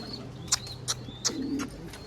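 A pigeon in a garden gives a few soft coos and chirps, spaced at short intervals, fairly faint against a quiet background with no talking.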